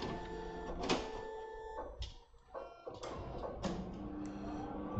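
A printer on a workbench during a model aircraft build whirs and clatters as it wakes up and runs, with repeated mechanical clicks and motor bursts, close and steady throughout.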